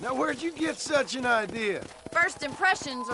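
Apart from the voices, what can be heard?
None of the usual background noises is heard.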